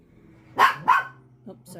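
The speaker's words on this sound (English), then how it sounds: "Oh, sorry, helicopter and dog." A dog gives two sharp, close barks in quick succession, followed by a softer yip, against a quiet indoor background.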